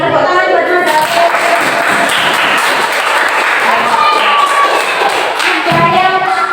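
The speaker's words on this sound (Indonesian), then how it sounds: "Tepuk tangan buat Mas Hafid" Classmates in a school classroom clap for a student who answered correctly, a dense burst of hand clapping sustained for several seconds with voices mixed in.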